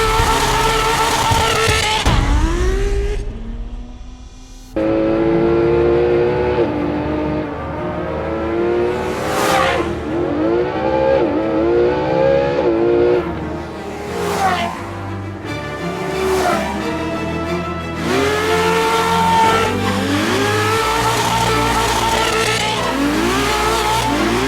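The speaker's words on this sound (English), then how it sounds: "Ferrari's Fiorano test track, and we're here to drive the brand new F12 TDF" A 2016 Ferrari F12 TDF with a 769-horsepower engine and rear-wheel steering, driven hard on the Fiorano test track. The engine revs up and down loudly throughout, with rising gear pulls and sharp shifts, close and continuous.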